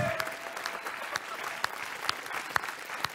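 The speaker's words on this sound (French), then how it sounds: "Vraiment, on peut l'applaudir aussi." A studio audience at a Belgian TV celebrity game show claps in a sustained, brisk round, with a few sharper individual claps popping out of the steady patter.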